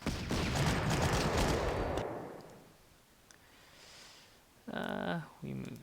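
An artillery battery is destroyed in the wargame Panzer Corps with a burst of rattling gunfire and explosions, loud for about two seconds and then fading out. Faint rumble follows, and speech comes in at the end.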